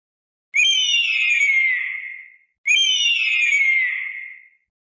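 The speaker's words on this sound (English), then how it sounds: "Eagle." An eagle's call sounds twice: two clear, high, whistling screams, each sliding downward and fading over about two seconds, separated by a short silence.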